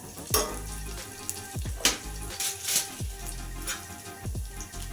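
Noodles frying in a pan while lemon coriander noodles are cooked, a steady sizzle with a few sharp clinks and scrapes of stirring, close by and with no talk.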